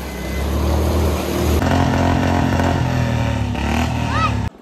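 A motorcycle engine runs and revs through flood water on a rain-soaked road near Nangal Dam in Punjab, loud and close, with splashing, people talking over it and a brief tonal chirp near the end.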